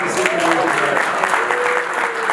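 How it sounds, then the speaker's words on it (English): Sustained applause from a crowd gathered at a community meet-and-greet in honor of the local Sikh community, steady and dense throughout, with some voices mixed in. "Let's give a big round of applause for the Sikh community here."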